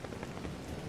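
Steady rain patters on an umbrella in the dreamscape of Penacony in Honkai Star Rail, a soft, dense, continuous hiss of drops with no voices.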